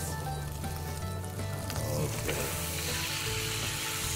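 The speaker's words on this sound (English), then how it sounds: "Hear the sizzle." Food sizzles and crackles steadily in a hot pan, a continuous loud frying hiss with a low background hum and no talking.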